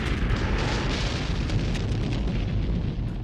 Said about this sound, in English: That was the best explosion in not only this movie, but also the previous one.